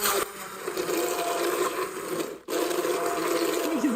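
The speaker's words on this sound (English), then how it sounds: "So this is just the Cuisinart Smart Stick blender." A Cuisinart Smart Stick immersion blender purees broccoli cheese soup, a dense steady whirring churn that cuts out briefly and restarts, close and continuous.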